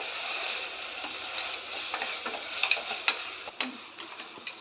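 Mutton curry with spice powder is stirred in a pan, giving a soft continuous sizzle with scattered scraping clicks of a spoon that grow sharper toward the end, close and fairly quiet.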